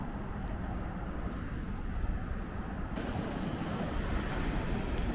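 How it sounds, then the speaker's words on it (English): Waves lapping on a shoreline on a spring day, a steady broadband wash of surf with some wind, constant and fairly close, with no voices. "I just love the sound of the waves lapping on the shoreline."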